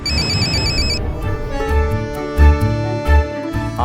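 A telephone rings with a bright repeating electronic tone at first, then a sustained melodic ringtone plays on, loud and near, with no talking.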